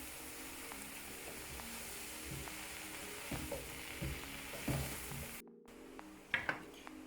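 Mushrooms sizzle in a pan while cooking down for Romanian ciulama, a steady hiss with occasional scrapes and knocks of stirring, briefly cut off before a few louder clatters near the end.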